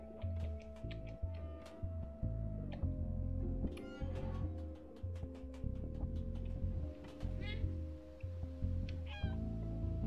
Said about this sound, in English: Yes, it's a kitty.